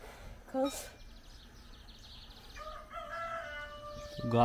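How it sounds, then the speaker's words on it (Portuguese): A rooster crows in the background at a home where a Fiat Uno S is being restored, one drawn-out call rising fairly faintly from the distance after a brief clatter. "O galo tá atacado hoje."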